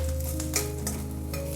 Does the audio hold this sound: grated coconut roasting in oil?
yes